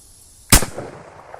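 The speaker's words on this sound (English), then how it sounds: "All right, I'm behind cover, and I am firing." A single loud rifle shot of an M855A1 round fired from behind cover at a steel engine turbocharger, a sharp close crack followed by a decaying echo tail.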